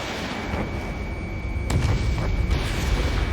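In the video game Ace Combat 7, a missile hits a laser cannon. Deep booms and a rumble of explosions land over steady engine and wind noise, growing heavier partway through, with no talking.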